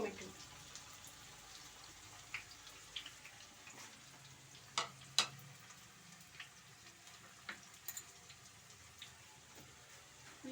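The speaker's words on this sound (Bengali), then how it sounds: "পেঁয়াজটি লাল করে ভেজে দেব।" Onions fry in a pan for mutton kasha with a soft, steady sizzle, broken by scattered clicks and scrapes of stirring, faint and close throughout.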